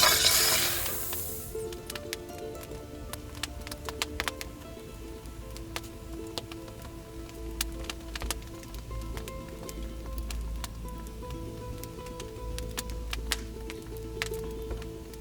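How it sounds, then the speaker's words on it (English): Chili sauce warming at the opening of a wood-fired oven, a steady soft sizzle with scattered crackling pops, close and continuous, after a brief louder burst at the start. "I'm just going to warm some of my chili sauce in the oven opening."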